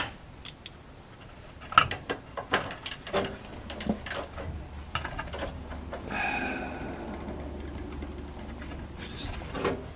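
Ratchet with a 15 mm socket clicking on a bolt of a Ford Super Duty truck during cab bushing replacement, irregular bursts of sharp mechanical clicks and clunks, close by over low background rumble.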